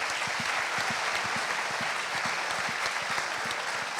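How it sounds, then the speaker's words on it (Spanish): A crowd at a regional constituent council candidates' debate applauds continuously, a steady blended patter of many hands with some louder individual claps standing out. "Un aplauso para él, por favor."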